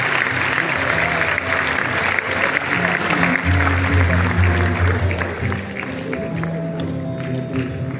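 Applause at the Africa Food Systems Forum 2025 in Diamniadio welcomes heads of state: a large hall audience claps steadily and loudly, the sound sustained across the whole stretch and tapering slightly toward the end.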